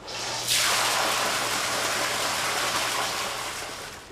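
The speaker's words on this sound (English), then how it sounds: "Then there's the waterfall room" Water pours steadily in a hot spring bathhouse waterfall room, a loud continuous gush that swells in abruptly and keeps rushing before easing slightly at the end.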